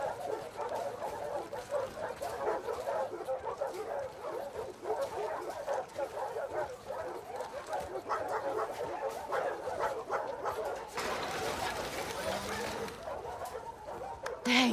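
A dog in the video game The Last of Us Part II barks, yips and whimpers in short excited bursts, mid-distance, with birds and muffled voices in the background.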